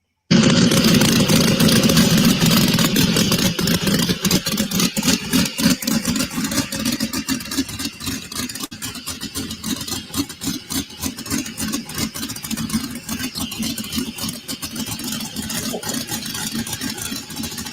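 Old pulling tractor engine on a new chassis, running at a tractor pull event: a loud, rough, steady engine roar that starts abruptly and holds continuously throughout, without talk.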